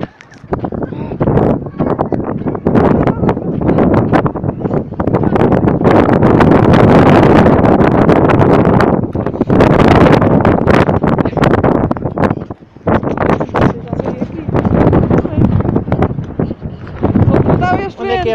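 Strong wind buffets the microphone on the Cabo da Roca coastal cliffs near Sintra, a loud, roaring rush with brief lulls, and people talk throughout.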